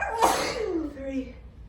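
A single strong sneeze from a person nearby, an abrupt explosive burst that fades into a drawn-out descending vocal sound.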